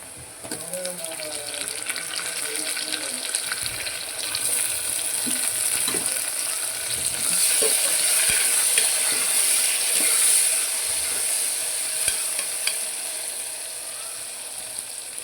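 Onions and tomato sizzle and fry in a pan for chicken biryani, with a steady hiss and occasional scraping stirs, heard close and continuous.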